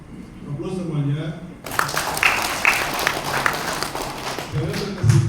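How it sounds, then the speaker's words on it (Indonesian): A crowd at a national orientation event breaks into applause, a steady wash of clapping that starts abruptly and continues loud after a man's speech, with talking over it. "Aplaus semuanya"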